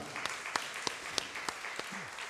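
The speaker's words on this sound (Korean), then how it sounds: "귀한 깨달음 주신 하나님께 영광의 박수 하겠습니다" Scattered, sparse claps ring out in an echoing room, about seven sharp hand claps spread unevenly over a couple of seconds.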